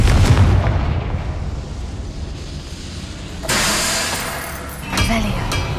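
A Confringo spell in Hogwarts Legacy bursts into a booming explosion, with loud rumbling blasts that swell and fade amid dense game noise, and a second, smaller surge follows shortly after.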